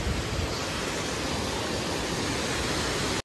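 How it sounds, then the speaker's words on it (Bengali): Waterfall water near Dawki lake in Meghalaya pours down in a steady, dense roar of rushing water, loud and unbroken, ending abruptly. "ওই ওখান থেকে ঝর্ণার জলগুলো পড়ে চলে আসছে এই এদিকে।"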